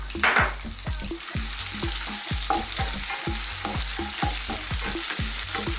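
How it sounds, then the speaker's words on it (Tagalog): Garlic and onion sauté in hot cooking oil in a frying pan, a steady loud sizzle broken by regular scraping strokes of a spatula, close up and with no talking. "So, igisayin na natin ito mga ilang segundo."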